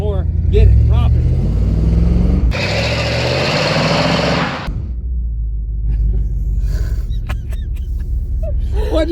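A car engine rumbles low and then revs hard into a loud roaring burst for about two seconds during a burnout before dropping back to a rough idle, with people talking over the engine.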